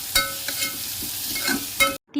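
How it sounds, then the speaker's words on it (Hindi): Onion with green chili and curry leaves sizzles in hot oil while a spoon stirs it, a continuous close fry with a few scraping knocks of the utensil, cut off abruptly at the end. "इसे अच्छी तरह से मैं मिक्स कर लूँगी और इसे कम से कम सुनहरा कलर लाने तक का इसे ऑनियन को अच्छी तरह से भून लूँगी।"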